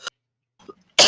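A voice imitates gagging and coughing with short, harsh bursts: a brief rasp, a quiet throaty catch, then a loud forceful cough, each separated by silence.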